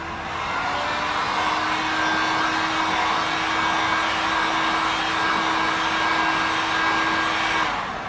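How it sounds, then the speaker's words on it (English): Heater blowing a steady broadband whoosh to force-dry freshly applied car touch-up paint during a scratch repair, with a constant hum; close and continuous, cutting off at the end, no talk. "So I'm going to force dry it with a heater."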